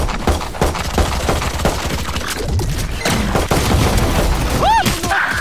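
Grenade blast in the shooter game Valorant, a dense burst of booms and thuds amid busy gunfire and game effects, with Portuguese-speaking players talking over it.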